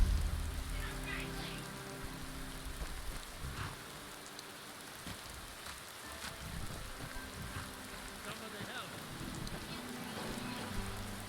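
Steady rain falls in a video game running the Wonders of Weather mod, a constant hiss with scattered drops, fairly faint and unbroken throughout.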